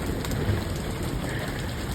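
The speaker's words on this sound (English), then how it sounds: "So, I'm getting a pretty good rain." Steady rain falling outdoors during light showers, a dense, even wash of drops hissing across the whole clip with no pauses and no voices.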